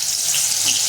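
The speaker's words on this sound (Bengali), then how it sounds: "এবার এই ফোড়নটার মধ্যে আমি কুচিয়ে রাখা কিছু কাঁচা লঙ্কা দিয়ে দেবো।" Chopped green chilies and white cumin seeds frying in hot oil as a tempering, giving a steady, close, bright sizzle that runs unbroken for the whole moment with no voices.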